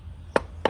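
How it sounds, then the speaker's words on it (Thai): Two sharp wooden knocks, a hammer tapping wood to knock something loose, spaced about a quarter second apart against a quiet low hum. "แล้วก็ใช้ค้อนนะครับ"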